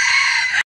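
A grown rooster of the RIR breed crowing in a backyard coop, one sustained call close to the mic that cuts off abruptly, with no other sound around it.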